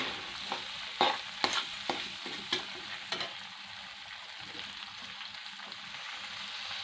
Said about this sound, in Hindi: इसमें हम मेथी पत्ता डालेंगे।